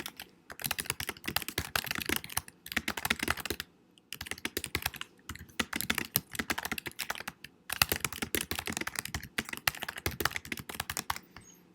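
Swift code being typed on a computer keyboard in rapid bursts of crisp, close clicks, separated by brief pauses, with no talking.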